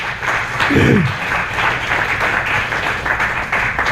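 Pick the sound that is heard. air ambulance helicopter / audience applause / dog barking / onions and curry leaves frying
audience applause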